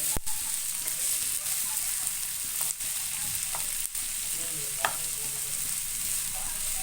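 Boiled potatoes frying in a pan: a steady, close, hissing sizzle broken by a few sharp clicks and scrapes of stirring, with no voices.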